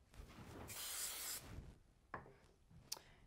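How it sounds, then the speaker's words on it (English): Spray glue hisses onto the back of a card in one soft burst of about a second, followed by a few quiet taps and handling sounds. "I'm going to just put a bit of spray glue on the back of this one"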